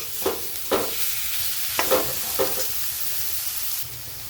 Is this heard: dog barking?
no